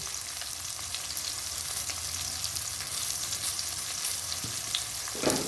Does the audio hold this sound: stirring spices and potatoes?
yes